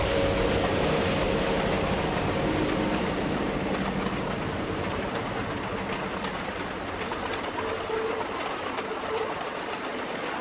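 A Domeliner passenger train with an Astrodome car and several locomotives at the head end rolls past close by. It makes a steady loud roar with clickety-clack wheel rhythm that lasts throughout and eases slightly toward the end.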